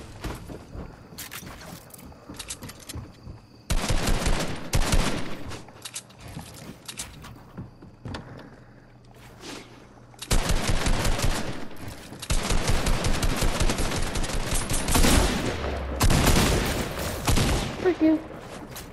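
Video-game gunfire comes in rapid automatic bursts and heavy volleys, separated by quieter gaps, loud and close throughout with no talking.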